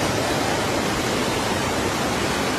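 River water rushing steadily at Gagangiri Ashram, a dense, even roar of flowing current that stays close and loud throughout with no break or voices.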